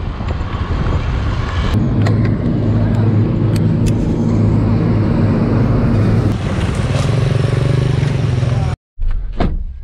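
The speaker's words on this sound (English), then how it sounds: "Alright, I better get back to driving." Car driving along a road on a journey from Bagan toward Yangon, a steady loud engine and road rumble filling the whole stretch, with a brief cutout near the end.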